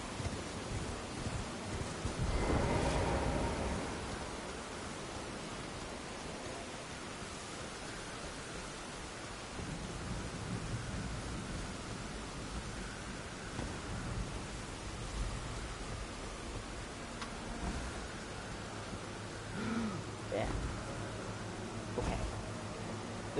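Steady rain falling in the video game Elden Ring, a dense continuous hiss with no voices, holding an even level throughout with a brief louder swell near the start.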